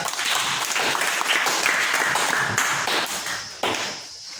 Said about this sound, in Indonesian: Kita berikan aplaus pada kelompok 3.